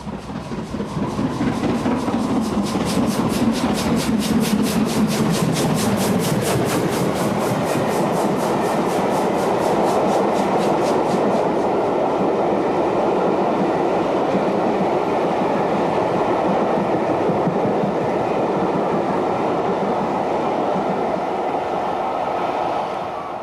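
Steam locomotive 8F 48151 hauling the Furness Flyer rumbles past close by, a loud steady roar with rhythmic clatter and a high whistling tone that fades after a few seconds.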